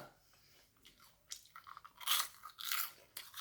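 Crispy squid-flavoured baked corn ball snack crunched between the teeth in a few close, dry bursts, the bites growing louder toward the end with short pauses between, and no talking.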